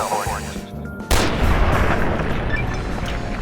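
A single sharp gunshot fires in a video game, followed by a long booming echo and sustained rumble, with no voices.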